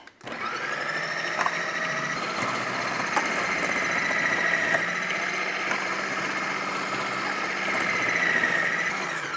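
A Ninja Professional Plus food processor runs steadily with its grating disc shredding cabbage, a loud continuous motor whine with rough grinding texture and occasional small knocks, lasting the whole stretch with no talking.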